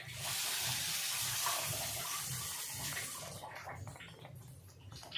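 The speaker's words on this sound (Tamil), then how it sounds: "அரை கப்பு இதில் தண்ணி ஊற்றிக்கலாம்." Water is poured from a cup into a pan of sugar while making ghee rava Mysore pak, a steady rushing pour for about three seconds that thins into lighter splashes and trickles.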